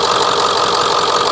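A Ford 7.3L Powerstroke diesel with a newly fitted turbo runs steadily up close, a loud, continuous clattering drone with a dense whine-like hiss on top and no voices over it.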